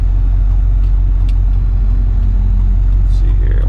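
A car on a test drive drones steadily from the cabin, its loud low road and engine rumble continuous throughout, with a few faint clicks and a brief rising tone near the end.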